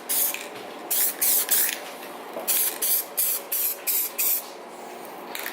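An aerosol can spray painting a VQ35DE throttle body, short sharp hissing bursts repeated about ten times in quick succession, close and loud, with no voices.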